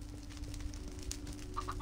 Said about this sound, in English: Chicken, what the hell are you doing out here?